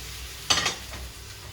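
Potato sliced into half-centimetre rings drops into a hot frying pan with a sudden sizzling burst that quickly fades to a low background hiss.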